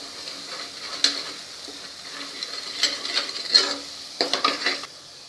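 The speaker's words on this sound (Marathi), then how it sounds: "अर्धा मिनिट परतून झालेला आहे छान मसाला." Masala spices stir-fried in a pan for a mixed vegetable bhaji, a soft sizzle broken by several sharp spatula scrapes and clinks against the pan, close and moderately quiet.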